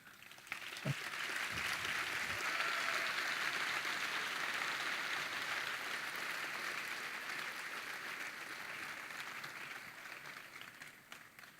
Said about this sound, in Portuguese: Eu gostaria de uma salva de palmas para o nosso.